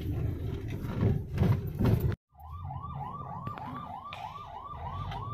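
An ambulance siren wails in a rapid rising-and-falling yelp, steady and moderately distant, after a burst of loud rumbling traffic-jam noise that cuts off abruptly.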